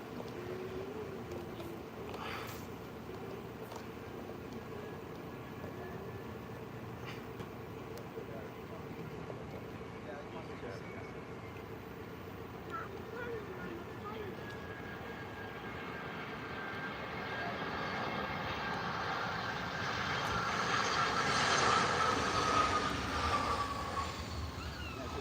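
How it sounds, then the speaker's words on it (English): EasyJet Airbus A320 coming in to land at Bristol Airport, a steady jet engine roar that swells louder over the final seconds as it nears, heard from outdoors with faint background noise and brief speech. "we've got the EasyJet A320 coming into land now"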